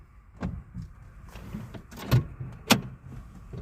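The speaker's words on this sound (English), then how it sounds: "I'm gonna reprime the fuel pump here." A car's electric fuel pump reprimes with a faint, steady whirring hum, along with a few soft clicks and knocks inside the quiet cabin.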